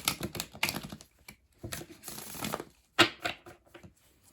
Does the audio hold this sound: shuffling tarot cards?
yes